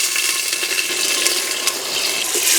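Tomatoes drop into onions frying in a clay pot, giving a loud, steady hiss and sizzle with faint crackles throughout and no talking.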